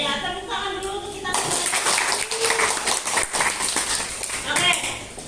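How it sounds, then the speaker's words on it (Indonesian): A school class claps together at the end of a lesson: children's voices first, then a sudden, loud wave of hand clapping that continues to the end. "tepuk tangan dulu untuk kita"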